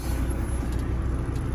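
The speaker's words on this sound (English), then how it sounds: "pull the trailer brakes again," A brief hiss of a truck's trailer air brakes being set, a short broadband rush of air over the idling engine's low rumble inside the cab.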